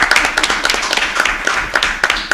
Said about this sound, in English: Everybody give Michelle a round of applause.